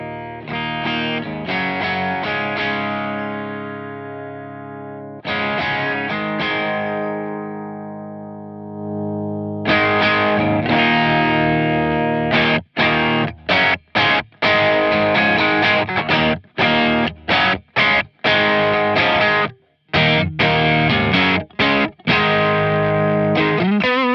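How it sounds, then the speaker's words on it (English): An electric guitar played through a VS Audio Royal Flush dual overdrive pedal, with the drive side stacked on the boost, gives saturated sustained chords followed by choppy, rhythmic riffing with short gaps, loud and close with no talking. "the idea behind this side of the pedal is to overlay it on top of the boost side to give you a bit more sustain, more saturation, a bit more gain going on there"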